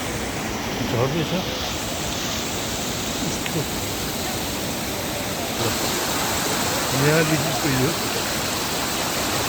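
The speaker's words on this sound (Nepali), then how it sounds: "झर्ना एउटा सानो सुन्दर यो झर्ना" Constant rushing hiss of a small waterfall beside a river, steady and close, while someone talks briefly over it a couple of times.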